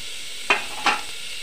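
Chopped onions frying in a pan as tomatoes go in, with a soft background sizzle and two brief scraping stirs.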